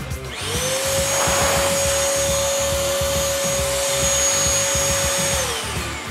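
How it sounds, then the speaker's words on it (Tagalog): A 1000W vacuum cleaner running in blower mode: a loud, steady motor whine with a rushing airflow runs continuously, close by, with a faint rhythmic pulsing underneath. "nakita nyo naman kung gaano kalakas yung aming vacuum cleaner na may function na blower"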